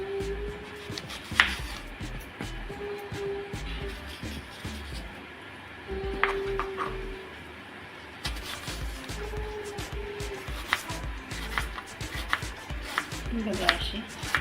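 Knife chopping fruit into small pieces on a board for Maharashtrian fruit custard, including banana slices; soft irregular taps and scrapes run throughout, close by, with faint background noise.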